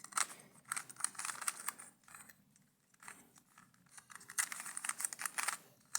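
Quick plastic clicks and clacks as an electronic Rubik's cube is twisted and scrambled, arriving in irregular bursts with short pauses, close-up and fairly quiet, with no talking.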